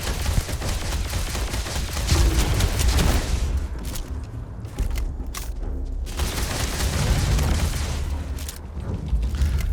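Combat gunfire in the video game Starfield: dense bursts of shots and booming impacts, loud and continuous with brief lulls, and no talk.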